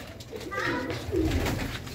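Sialkoti Kasuri pigeons coo softly and continuously beneath a voice.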